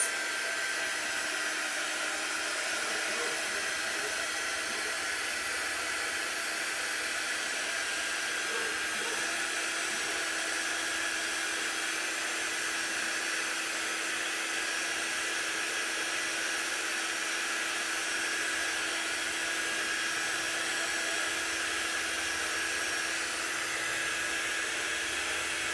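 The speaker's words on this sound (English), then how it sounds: "let's get our drying tool" A drying tool blows hot air steadily to dry chalk paint on a craft piece, a continuous close whirring hiss that holds level throughout with no talking.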